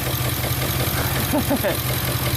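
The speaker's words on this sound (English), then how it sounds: "You hear that? And the engine RPM changed." A Ford engine idles steadily with a low, pulsing rumble and a vacuum leak from a missing O-ring on number 4, while a brief hiss and a faint voice come through partway.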